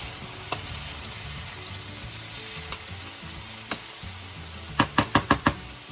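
Ground beef frying in a pan: a continuous close sizzle, a few scattered taps, then a quick run of five sharp clacks near the end as the meat is stirred.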